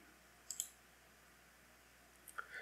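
A computer mouse clicks while a download is extracted: a quick pair of light clicks early on, then a couple more near the end, over a quiet room hum.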